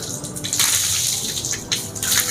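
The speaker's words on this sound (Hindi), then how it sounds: "मैंने 3 मरतबा ये पानी बहा लिया उल्टे हाथ पर।" Water pours over a left hand during ritual Islamic washing, a steady splashing gush with brief surges as the stream strikes the skin, close and clear, with no talking.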